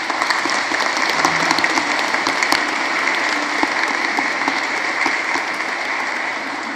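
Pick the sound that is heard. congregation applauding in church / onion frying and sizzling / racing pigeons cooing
congregation applauding in church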